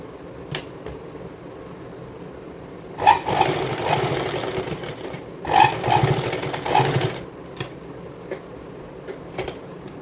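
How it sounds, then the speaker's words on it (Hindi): Sewing machine stitching elastic onto kids' clothing, a quiet steady mechanical whir broken by two louder rapid stitching runs, heard alone at close range. "अब हम यहाँ पर इलास्टिक को सिलाई लगा लेंगे, 3-4 सिलाई हम लगा के इसको लॉक कर देंगे।"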